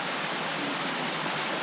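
Steady broadband rush of a stream flowing past rocks in an outdoor landscape, continuous and fairly close with no voices.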